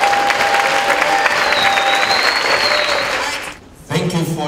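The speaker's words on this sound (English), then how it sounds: "Let's give him a round of applause." An audience at a conference applauds to welcome speaker Tony Meloto, loud and dense clapping that tapers off and drops away before a voice comes in at the end.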